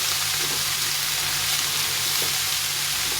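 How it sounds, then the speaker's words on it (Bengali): Pumpkin pieces fry in a pan with a loud, steady, close sizzle and faint stirring scrapes now and then. "কুমড়োটা দিয়ে একটু ভেজে নিতে হবে"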